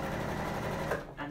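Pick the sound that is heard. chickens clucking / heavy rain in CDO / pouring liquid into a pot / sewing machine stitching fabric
sewing machine stitching fabric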